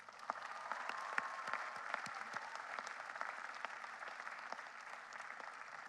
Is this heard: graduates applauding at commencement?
yes